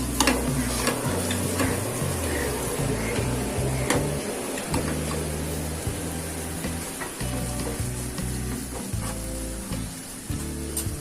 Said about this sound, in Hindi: इसे भी हम गार्लिक के साथ अच्छी तरह से सॉटे करेंगे।